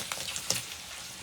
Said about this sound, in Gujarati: ભૂંગળા તળાય છે